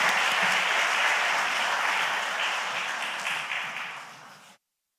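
Steady applause from a sizable church congregation carries on for several seconds, then fades out and stops abruptly.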